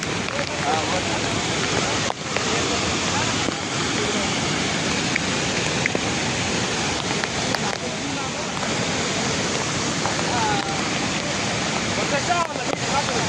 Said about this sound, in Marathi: पाणी वाहताना दिसतंय